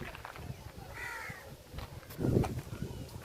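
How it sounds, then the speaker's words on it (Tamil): Crows cawing among other birds at Karaivetti Bird Sanctuary in the evening, a few scattered calls at moderate distance with outdoor background noise and a louder burst near the end. "இங்கே பாருங்கள் எவ்வளோ பறவைகள் வருது."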